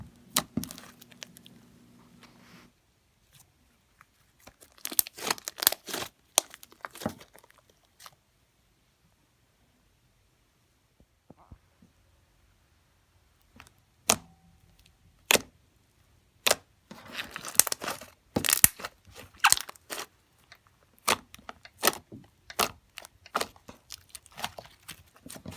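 Fluffy homemade slime being poked and squeezed makes sharp, close crackles and wet pops in scattered bursts, separated by long quiet gaps.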